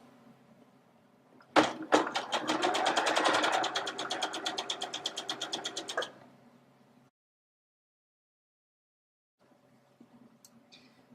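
Sewing machine stitching binding onto a V-neck neckline, a steady rapid mechanical whir for about four seconds after a couple of sharp clicks, then stopping, with a quiet pause and faint handling sounds afterward.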